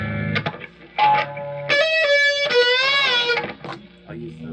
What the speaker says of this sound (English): Let me do a little bit of lead with the reverb on